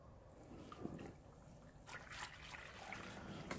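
Light dry malt extract is stirred into brewing water in a pot, giving a soft, continuous sloshing and trickling that grows a little busier partway through, faint and close.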